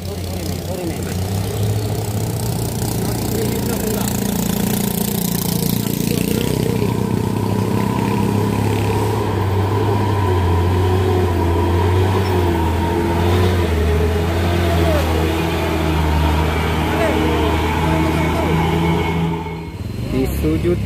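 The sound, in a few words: Fuso truck engine climbing rocky hill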